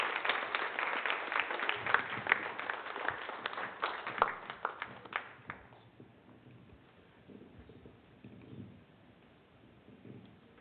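An audience claps at the William Carney Awards 2017 ceremony: a burst of scattered, crackling applause that thins out after about six seconds, leaving faint room noise and a few stray claps.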